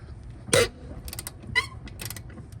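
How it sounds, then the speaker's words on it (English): A ratchet wrench loosens wheel lug nuts, giving short bursts of close mechanical clicking and creaking, with a couple of brief ratcheting runs in quick succession. "I like this one with the ratchet on it."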